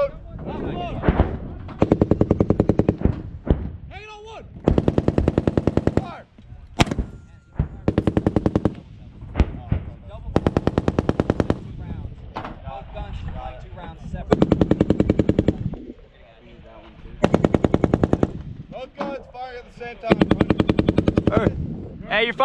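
USMC 60mm mortars firing in a live-fire drill, with a series of loud, sharp booming launches spaced a few seconds apart and shouted crew commands between them.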